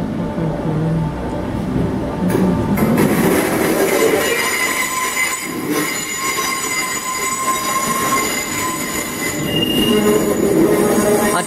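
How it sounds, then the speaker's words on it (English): Loud, drawn-out squealing of train wheels on rails as a train pulls away from Liverpool Central station, high screeching tones over a heavy rumble, close by. "Prepare for the very squeaky squeaky train coming out."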